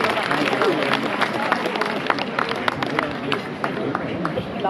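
A crowd applauds at the opening of the Frankfurt Christmas market, a dense, steady wash of clapping mixed with crowd noise and voices throughout.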